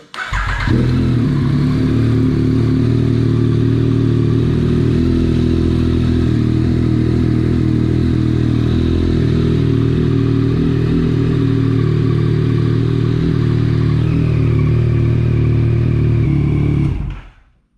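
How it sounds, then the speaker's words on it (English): A 2021 Yamaha MT-09 motorcycle with an aftermarket exhaust fires up from cold and settles into a loud, deep, steady idle close by, then cuts off abruptly at the end. "Check out the cold start."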